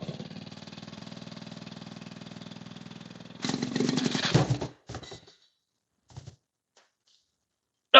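A vintage Maytag twin-cylinder engine runs with a steady putter, then briefly revs louder and rougher before cutting out, leaving a few faint pops and knocks in near silence.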